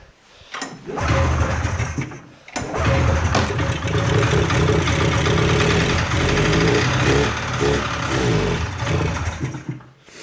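A 1997 Polaris Indy Trail snowmobile engine, fed fuel down the cylinders, slightly flooded, and pulled with a makeshift rope, cranks and catches, running roughly after two short starts and sputtering in uneven bursts up close.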